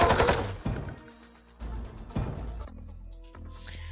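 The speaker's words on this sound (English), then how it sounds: "Please don't machine gun my face" Machine gun fire from the Gorky 17 video game comes in several sharp bursts, loud at first and then in shorter rattling volleys separated by brief pauses, with no speech.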